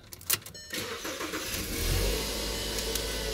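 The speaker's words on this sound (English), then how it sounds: "let me turn the car on." A Volkswagen car engine cranking with clicks and starter whir, then catching and settling into a steady loud idle rumble, nearby and alone.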